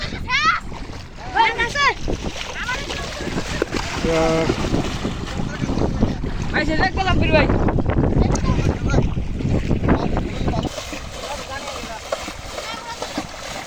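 Water splashes and sloshes repeatedly as it is scooped and thrown out of a sunken boat on a river, while several people talk and call out over it.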